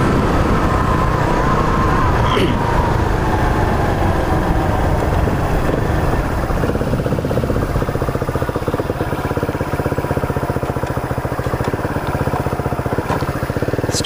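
A Rusi Flash 150 motorcycle idles steadily for the whole stretch, a continuous close engine rumble with a faint whine mixed into the background noise.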